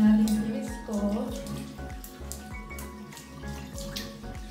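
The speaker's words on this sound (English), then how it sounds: "basahin lang muna yung face ko" Water runs from a tap into a sink while a face is wetted for a morning skincare wash, with splashing and dripping throughout and someone talking over it.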